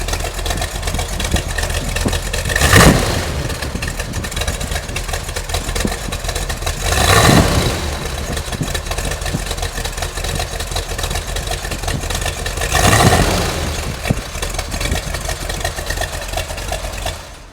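A 1971 Corvette with an LS6 big-block V8 on solid lifters idles with a loud, lumpy rumble, broken by three strong revs spaced several seconds apart, with no voices.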